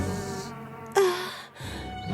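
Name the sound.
giant queen bee buzzing, cartoon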